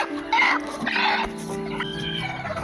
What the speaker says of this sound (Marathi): ही जी आहे ती खुडूक कोंबडी आहे.